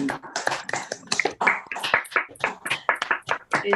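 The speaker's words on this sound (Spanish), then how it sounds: "abrimos ahora los micrófonos para brindarles un aplauso" Online reading-circle participants clap with their microphones open, a few hands producing distinct, uneven claps at close range without a crowd roar.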